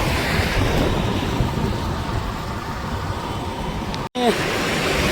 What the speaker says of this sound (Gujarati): એટલો પવન છે અત્યારમાં